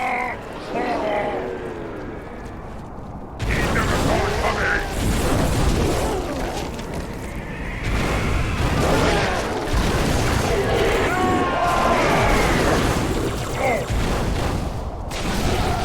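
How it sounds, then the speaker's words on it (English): Flamethrower firing in the video game Halo 3, roaring bursts of fire with booms and crackling mixed among game effects, loud and sustained over long stretches with short gaps between them. "the flamethrower is fun to use, you know, because it's a flamethrower"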